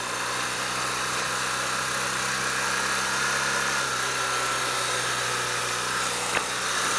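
A BMW R1200GS motorcycle engine drones steadily in second gear while riding, loud and continuous with a constant mechanical hum and vibration throughout.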